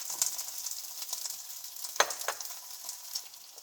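Garlic sizzles in hot oil in a pan, a steady close crackle with scattered pops and a few sharper spits, no voices over it.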